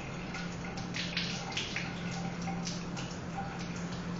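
Running water from a lab tap rinses a Gram-stained slide, a steady close splashing hiss that carries on without a break.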